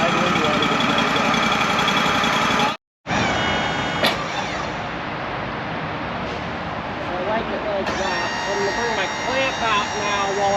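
The engine of a Wood-Mizer sawmill idles in a steady, close mechanical drone with a faint whine on top, briefly cutting out for a moment before the hum resumes, with voices talking over it.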